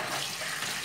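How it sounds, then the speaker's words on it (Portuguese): Tap water runs in a steady, close, even gush as it fills a bottle at a kitchen sink, with no voices. "Vou colocar água nessa garrafa e vou colocar no freezer"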